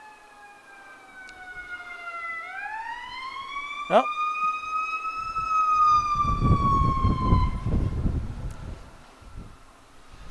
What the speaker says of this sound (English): Fire engine races by.